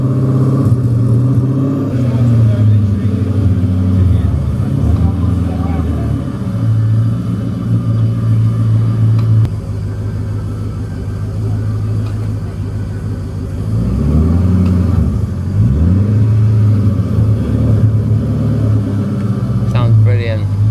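A Koenigsegg CCX hypercar's engine rumbles deeply as it is parked at a hypercar weekend at Concours House, with low idling and a few swelling blips of revs while people talk nearby.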